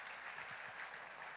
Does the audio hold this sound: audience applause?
yes